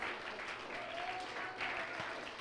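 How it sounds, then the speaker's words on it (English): A church congregation claps in praise during a Sunday service, a dense, sustained round of applause filling the room at steady volume. "Give him a clap offering of praise if you love him this morning."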